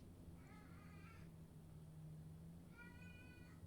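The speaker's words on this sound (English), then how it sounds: "one of my cats is meowing" A house cat meows twice, two drawn-out, quiet calls separated by about a second and a half, over a low steady background hum with no talking.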